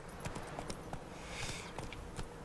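Geralt's horse Roach trots up in The Witcher 3, hooves clip-clopping faintly in an uneven rhythm over a low ambient backdrop.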